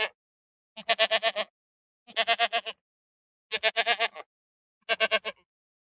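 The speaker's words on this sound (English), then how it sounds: "The goat baby is called kid." A goat bleats four times, each call a quavering, wavering cry of about half a second, clear and close against silence with even pauses between them.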